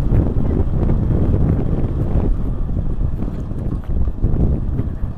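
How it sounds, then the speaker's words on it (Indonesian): Strong wind buffets the microphone while riding a motorcycle through village lanes near Karanganyar, Cirebon, a loud continuous low rumble with gusting swells throughout. "Anginnya cukup kencang"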